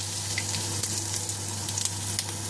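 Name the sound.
bay leaves and whole cumin sizzling in hot oil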